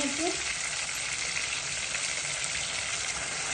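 Chicken meat frying lightly in a pan with salt, a steady even sizzle throughout, close and loud, with a brief stir of utensils at the start.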